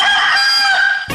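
A loud, close rooster crow rings out as a single sustained call in an election campaign jingle for the rooster symbol, cutting off abruptly at the end.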